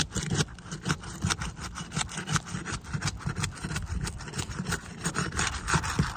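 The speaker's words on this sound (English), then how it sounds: "this shingle is tearing and breaking as I do this" A roof shingle tears and breaks as it is lifted during a shingle repair, making a continuous, close, gritty rasping and scraping with rapid crackling textures throughout.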